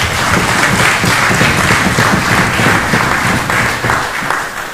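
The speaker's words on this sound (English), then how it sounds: "Please let's clap for him." Dense, steady applause fills a legislative chamber during a special sitting of the House of Representatives, many hands clapping continuously at a loud, even level with little speech.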